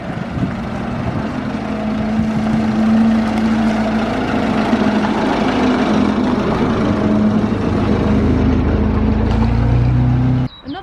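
A 1924 Dodge Tourer with a 3.5 litre four-cylinder engine running, a loud steady low drone with a constant hum, holding level before cutting off abruptly near the end.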